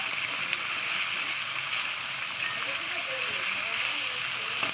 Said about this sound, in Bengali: বিটটা একটুখানি দিয়ে দু থেকে তিন মিনিট আমি একটু তেলে ভাজা ভাজা করে নেবো